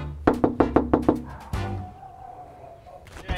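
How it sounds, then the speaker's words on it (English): A fist knocks on the front door of a house: six quick, sharp raps in an even rhythm, close and loud, followed by quiet room tone and a faint rustle near the end. "Nah, I'll just knock."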